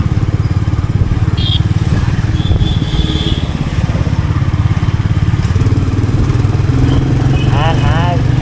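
A Royal Enfield Meteor motorcycle rides at low speed through Bangalore city streets, its engine thumping steadily and close while a rider talks over it and traffic noise drifts around.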